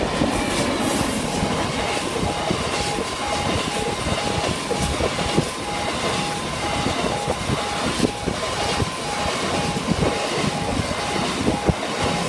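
A Colas Rail freight train rumbles through a level crossing near Lincoln, with steady clattering wheels, occasional squeals and the ringing crossing alarm throughout, loud and close, with no voices.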